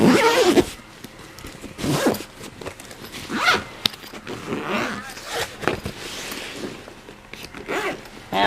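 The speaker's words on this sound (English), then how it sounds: "I'll zip it up." A zipper is pulled closed in several bursts on a pocket holding a hydration bag, close and loud, with rustling and handling between the zips.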